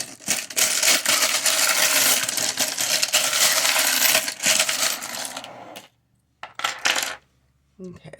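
A deck of cards is shuffled loudly and close up in dense rapid riffling bursts of flicking and clattering, then breaks off into two short final riffles separated by silence.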